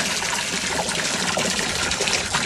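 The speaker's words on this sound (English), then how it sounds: "filling the tank for the fish" Water pours and splashes steadily into a koi pond tank for fish, making a continuous close trickle and gush with no voices.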